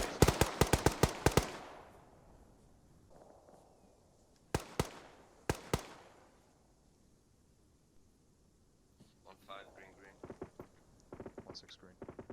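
Blank-fire gunfire during a military air assault exercise in Finland rings out in a rapid burst of sharp shots, then scattered single and paired shots echoing outdoors, with fainter crackling activity and voices near the end.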